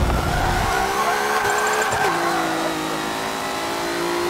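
A race car in Forza Motorsport 7 revs loudly while its tires squeal and skid, a sustained engine roar with shifting pitch and a few abrupt changes, all close and without any talking.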